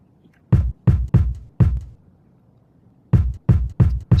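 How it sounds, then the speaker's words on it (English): Punchy, deep kick drum sample chopped and triggered on an MPC: four quick thumps, a pause of over a second, then four more in a steady rhythm, loud and close with no talk. "slightly different kick sound"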